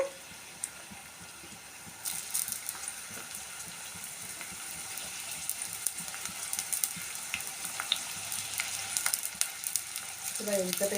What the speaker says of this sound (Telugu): ఇక్కడ ఆయిల్ అయితే వేడైపోయింది చూసారు కదా ఇప్పుడు ఇందులో వచ్చేసి ఇంకా పచ్చిమిర్చి కరివేపాకు ఉల్లిపాయ అయితే వేసేస్తున్నాను